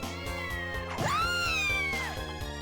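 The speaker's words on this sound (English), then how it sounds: "Where are you mewing at, little buddy? Or meowing?" A cat meows in a Castlevania game, one long rising and falling mew over a steady, rhythmic game music loop, loud and close with no talking.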